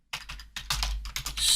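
Rapid typing on a computer keyboard, a steady burst of close, crisp key clicks in uneven clusters with no voice over it.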